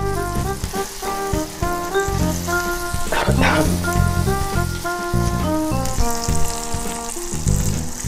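Onion frying in a pan, a steady broadband sizzle running continuously under prominent melodic background music, with no speech.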